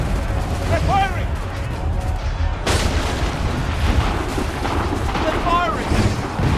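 Artillery fire in the Assassin's Creed 3 video game, with heavy booming blasts and a sharp loud crack midway over a constant battle din and wind roar; shouted voices are heard throughout.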